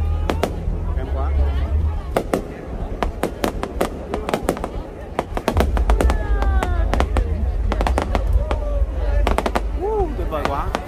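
A fireworks display at Cửa Lò, Nghệ An in 2022 bursts in rapid, sharp cracks and booms, some in dense clusters, over a continuous low rumble, with people talking and exclaiming nearby.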